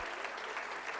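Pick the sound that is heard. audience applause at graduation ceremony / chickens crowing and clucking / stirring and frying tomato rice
audience applause at graduation ceremony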